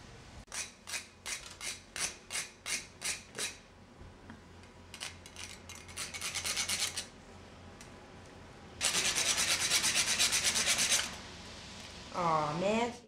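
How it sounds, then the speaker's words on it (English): A hand tool scrapes and shaves a movie prop toward a sharp point in rhythmic rasping strokes, first evenly spaced, then a longer continuous scrape, with a brief voice near the end. "Just chisel this so you've got like a knife."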